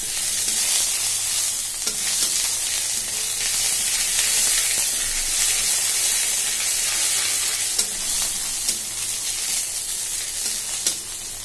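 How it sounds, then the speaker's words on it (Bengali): Ginger-garlic paste frying in a pan with a steady, close sizzle and hiss throughout, occasional soft stirring clicks, no talking. "আমি 5 মিনিট মতো ফ্রাই করে নিচ্ছি।"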